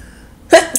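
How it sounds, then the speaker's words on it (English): One short, loud sneeze bursts out right after a stretch of near silence, close to the microphone, from someone commenting on an NHL 15 GM mode game with the Washington Capitals. "I'm going to sneeze here."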